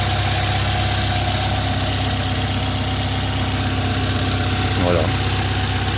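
An Opel Frontera's engine idles in a steady, even drone, close and constant from start to finish, with a single short spoken word near the end.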